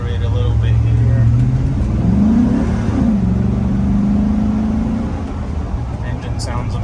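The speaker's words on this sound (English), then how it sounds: "Accelerate a little bit here." A 2005 Chevrolet SSR engine accelerates while driving, a loud, close, rising drone whose pitch climbs in steps as it pulls through the gears, then settles to a steadier cruise.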